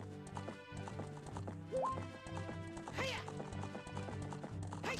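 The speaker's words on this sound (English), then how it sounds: "It seems like when I speed up, that horse speeds up too." A horse gallops in the Zelda Spaceworld '97 beta video game, its steady clip-clop hoofbeats and a whinny running under a constant layer of game music.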